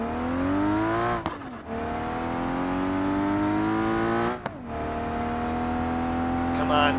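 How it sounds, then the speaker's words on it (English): Car engine in BeamNG.Drive, a Barra-swapped wagon heavily loaded in the trunk, revving hard on a nitrous hit, a steady rising harmonic drone broken by two short gear-shift dips, loud and close throughout. "Alright, time for that nitrous hit."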